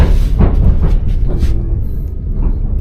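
Loud, low rumble of a moving Trans-Siberian train in Russia with rattling and clanking of cars, steady throughout.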